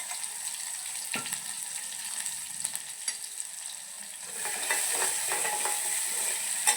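Green chillies, garlic, cumin and curry leaves fry in hot oil in a pan, giving a steady close sizzle with occasional scrape-and-stir clicks, growing louder and busier toward the end.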